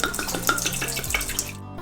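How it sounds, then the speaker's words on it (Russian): Red wine poured from a bottle into a saucepan for a sauce makes a steady liquid splash lasting under two seconds, with background music underneath. "и выливаем в сотейник."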